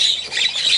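A hen gives one loud, harsh squawk, close by and sustained for under a second, with no talk over it.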